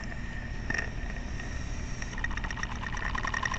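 PMR no 3, a stationary plant engine running out of gear with the throttle opened slightly in a workshop, gives a low, even, faint rumble with light rhythmic knocking throughout.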